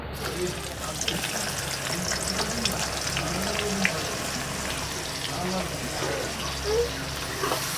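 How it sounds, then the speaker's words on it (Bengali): Onions frying in hot oil in a home kitchen pan for chicken biryani, a steady broadband sizzle with small crackles and faint stirring sounds throughout, fairly close and moderate in level. "তেল গরম হয়ে গেছে, আমি এবার পেঁয়াজগুলো দিয়ে দিচ্ছি।"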